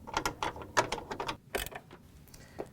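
Ratchet clicks while a bolt is tightened to hold a Whirlpool/KitchenAid/Maytag washer drive motor: quick, close, uneven bursts of metallic clicking with short pauses in between.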